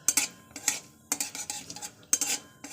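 A metal spatula stirs frying food in a pan, with intermittent scraping and clinking strokes in short clusters over a faint sizzle and no voices.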